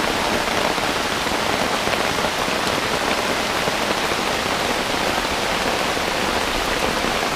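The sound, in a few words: rain falling in the jungle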